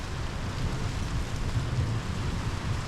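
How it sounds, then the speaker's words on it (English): Monsoon rain beginning in Arizona falls as a steady broadband hiss with a low rumble, constant and fairly near, with no speech. "You see, rain's coming."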